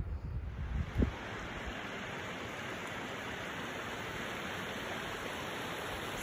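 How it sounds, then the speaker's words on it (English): A waterfall along a hiking trail to Latopie Lake gives a steady, broad rushing roar that never lets up, with a single brief knock near the start. "we got some more waterfall action"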